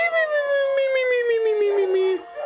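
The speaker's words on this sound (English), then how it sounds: "I'm sorry if you can hear my dogs. They're barking at nothing" Dogs indoors let out one long, steady, falling howl that stops abruptly near the end, loud and close with little else around it.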